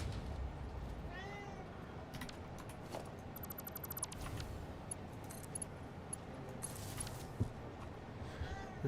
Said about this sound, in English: Meow, you say?